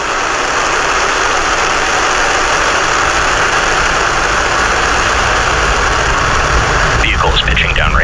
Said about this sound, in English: Ignitions, engine full power, go NROL-69,